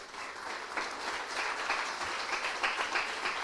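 Soft, steady applause from a church congregation, many hands clapping evenly and faintly at a distance throughout.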